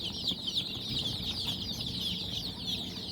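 Young chicks peep continuously inside a mesh enclosure, a dense, shrill chorus of overlapping chirps, close and steady throughout with no voices.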